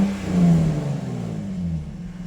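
A 2017 Jaguar F-Type engine runs steadily up close, a low, even drone with a slight swell early on, then settling into a smooth idle with no voices.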